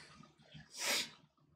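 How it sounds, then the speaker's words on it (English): A single wet, nasal sniff swells and fades over about half a second, close to the mic, against a quiet background. "let me stop the sniffling"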